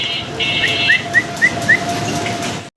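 A few short, high chirping calls ring out one after another at an even pace near a pair of white Danish pigeons, over a steady background hum.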